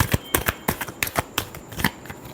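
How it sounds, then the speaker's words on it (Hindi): Tarot cards are shuffled close up in a series of crisp, rapid riffles and flicks, about a dozen quick bursts in an even rhythm. "last shuffle"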